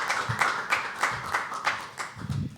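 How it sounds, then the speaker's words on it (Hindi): Audience applause at a live poetry open mic at The Habitat greets a poet called to the stage, steady rhythmic clapping of several hands, moderately faint and without talk. "तालियां।"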